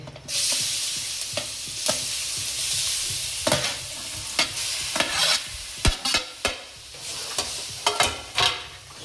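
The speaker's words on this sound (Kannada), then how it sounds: "ಬೀಟ್ರೋಟ್ ಸೇರಿಸಿ ನೀಟಾಗಿ ತಿರುಗಿಸ್ತೀನಿ" Grated beetroot fries in two spoons of ghee for beetroot halwa, a close bright sizzle broken by repeated sharp spatula scrapes and knocks against the pan, growing more rhythmic toward the end, with no voices.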